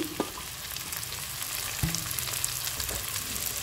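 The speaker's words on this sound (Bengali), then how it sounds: "আমি এখানে বাকি সবজিগুলো দিয়ে দিচ্ছি, দিয়ে দিলাম আলু আর সাথে বরবটি" Potatoes and long beans fry with onions in a pan for a noodle dish, giving a steady close sizzle with a few sharp clinks of a utensil against the pan.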